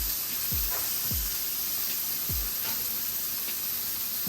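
Celery and carrots hit a hot pan of spicy gochujang shrimp fried rice with a steady, close broadband sizzle, broken by a few low thumps as pieces drop in.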